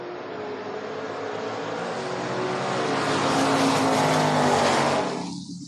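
Two drag racing cars, a Mustang and a Cutlass, roar down the strip at a Door Wars event. The loud engine blare builds, peaks as they pass close by, then cuts off sharply.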